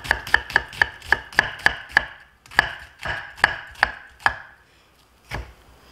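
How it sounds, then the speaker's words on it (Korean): A knife chops onion on a cutting board while mincing for an Italian meat sauce: a quick, even run of about a dozen loud, close taps, then a few slower, spaced strokes. "그 다음에 양파 다져보겠습니다."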